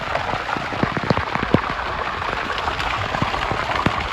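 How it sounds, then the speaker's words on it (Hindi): Heavy monsoon rain falling in a village, a steady close hiss with sharp individual drops and splashes pattering on surfaces throughout, no voices. "आज तो बढ़िया बारिश हो रही है।"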